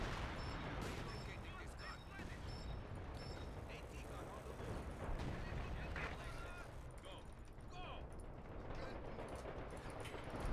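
Artillery bombardment hitting tents in a multiplayer war video game, heavy booming explosions and crackling gunfire rumbling continuously while players talk over it.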